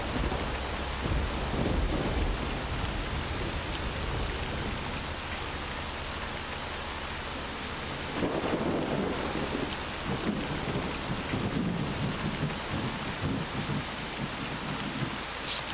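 A thunderstorm in the S.T.A.L.K.E.R. Call of Pripyat video game: steady heavy rain hisses throughout while low thunder rumbles swell and roll, with a louder crack near the end.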